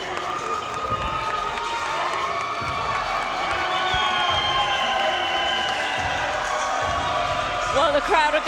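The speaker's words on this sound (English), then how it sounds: "the crowd are going absolutely wild here at York Hall as Andrei Dascalu is victorious" A boxing crowd at York Hall cheers and shouts wildly after a stoppage victory, a loud continuous roar with whoops and bangs while a commentator talks over it.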